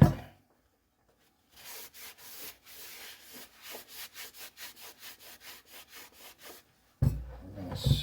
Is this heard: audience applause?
no